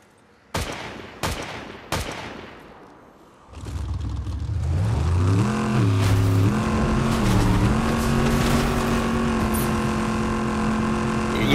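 In the Fortnite video game a car engine revs up and holds a loud, rising drone after a few sharp gunshot-like bangs, with no talking over it.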